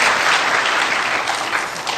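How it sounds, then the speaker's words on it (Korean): Dense, sustained clapping from a church congregation greeting a standing officer, a loud even wash of many hands without voices. "그럼 서서 그냥 박수 받으셔요."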